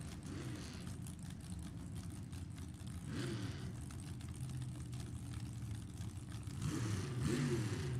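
Engine noise from a 1966-chassis nostalgia dragster at a drag strip: a steady, moderately distant drone that rises in pitch near the end.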